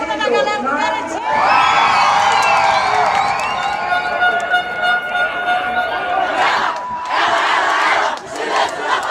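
Festival crowd at the Parintins boi-bumbá celebration in Amazonas erupts in loud, sustained shouting and cheering, a dense roar of many voices rising sharply and holding for several seconds before breaking into bursts.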